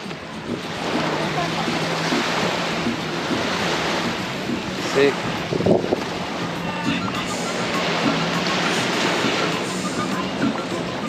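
Ocean waves washing onto a beach in Cancun, a steady roar of surf mixed with wind buffeting the microphone, with someone briefly speaking.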